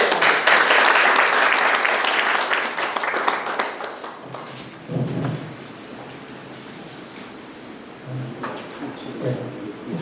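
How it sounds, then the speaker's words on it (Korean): An indoor church conference audience applauds to welcome a speaker, loud dense clapping that fades after about four seconds, followed by quieter room noise and brief sounds of movement. "다 같이 박수로 맞아주시겠습니다."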